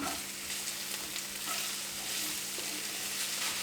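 Noodles, purple cabbage and other vegetables with a little sugar sizzle steadily in a hot pan for Hakka noodles, with soft scraping of stirring throughout and no talk.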